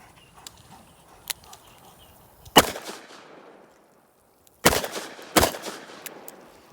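Revolver gunshots at a firing range: three loud, close shots with sharp cracks and short ringing decays, spaced a couple of seconds apart, with quieter clicks and handling noise between them.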